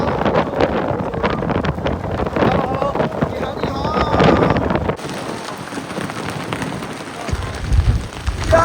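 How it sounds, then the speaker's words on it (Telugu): Strong wind at Yamdrok Lake in Tibet buffets the microphone as a loud, continuous broadband roar that surges and dips for the whole stretch. "గాలి విపరీతంగా ఉంటుంది."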